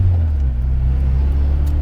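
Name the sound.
1992 Honda Accord LX CB7 engine running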